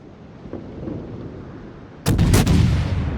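Naval guns fire in a warship video game, starting with a low, quiet rumble and then a sudden loud boom, followed by a second blast and a rolling echo.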